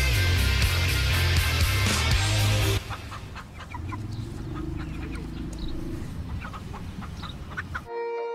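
A chicken clucks in a video game, with short, sharp, repeated clucks over a loud, dense backing of game music and noise that drops away partway through.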